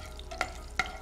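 Onions frying in oil in a pan with cardamom and green chillies: a faint sizzle under a low hum, broken by two quick ladle taps or scrapes about a third of a second apart.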